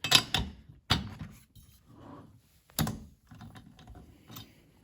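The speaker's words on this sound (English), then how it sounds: "It's a 16mm, so you need a 16mm tube socket." A 16mm tube socket works a spark plug loose from a STIHL chainsaw engine, giving a few close metallic clicks and ratcheting clinks with quiet handling noise between them and no speech.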